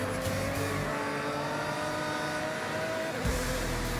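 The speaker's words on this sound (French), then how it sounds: "Attention à la glace, ça sert à rien de freiner dessus. Aïe aïe aïe, ça glisse." A car in the Forza Horizon racing game slides across ice, a steady engine drone with faint tire scrubbing held at moderate level throughout, ending in a low rumble.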